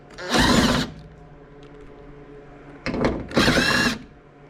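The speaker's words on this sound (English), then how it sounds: "Now we're going to remove the two top screws." Power drill backing screws out of a car door panel, two short high-pitched whirring bursts a couple of seconds apart with a quieter gap between, close up and without talk.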